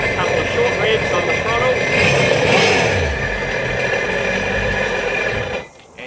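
A Sea-Doo jet ski engine revs a couple of times while running on a flush hose, a steady loud mechanical drone that surges briefly midway before cutting off near the end.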